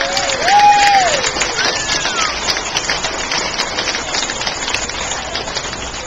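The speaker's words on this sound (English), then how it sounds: "I'd like to give them a big round of applause" A crowd at a state foosball championship applauds honored players, a dense hiss of clapping that swells early then continues steadily, with a brief sliding tone and scattered voices over it.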